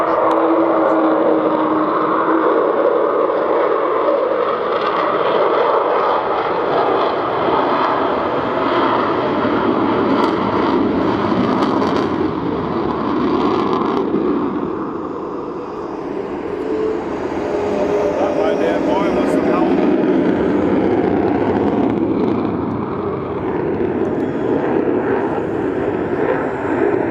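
An Avro Vulcan jet bomber flying a display at an RAF Waddington air show, a loud sustained roar that swells and eases as it passes, with a voice talking over it throughout.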